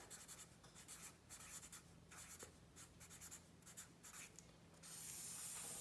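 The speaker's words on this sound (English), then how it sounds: "I'm going to write the year at the top just so I know what year" A pen scratches across paper while labels are written, a faint, close rasping in short bursts of strokes with brief pauses, then a soft steady hiss near the end.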